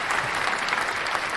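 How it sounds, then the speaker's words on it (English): Brisk audience applause at a fan forum panel, a close, dense crackle of many hands clapping that holds steady throughout with no speech over it. "I was waiting for applause or something"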